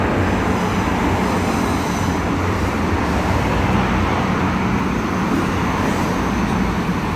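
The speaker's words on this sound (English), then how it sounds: "A lot of traffic today, don't know what's going on. So it's 10 to 6 and it's absolute gridlock." Heavy gridlocked road traffic in Wigan near a canal and railway tunnel, a dense continuous rumble and roar of engines at moderate distance, steady throughout with no talk.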